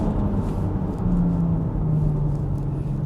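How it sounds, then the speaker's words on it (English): A BMW X3M with the S58 engine and an Active Autowerke exhaust under way, producing a deep, steady exhaust rumble that drones loudly and continuously inside the cabin, with no talking. "what I absolutely love is how the exhaust sounds on this car. Let me just do a pull and show you guys"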